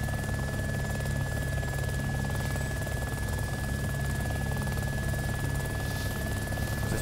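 A Little Bird helicopter's engine in DayZ hums steadily and loudly for the whole stretch, a constant droning whine with a fixed tonal buzz and no pauses.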